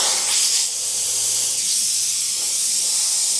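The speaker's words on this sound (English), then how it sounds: "What I think might work pretty cool is if I do a little bit of spraying through a template" Airbrush hissing steadily as paint is sprayed through a template around the edges of a painted skull-and-fire design, a continuous close, bright airy spray with no talking.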